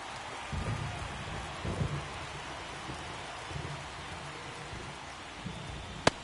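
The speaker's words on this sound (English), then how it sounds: "It really feels like we might be running out of time before a rain delay is called. This rain is not letting up." Heavy rain pours steadily through a baseball game in MLB The Show 24, with low thunder rumbling in a few swells and a sharp crack near the end.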